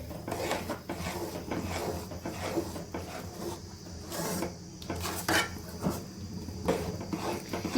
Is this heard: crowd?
no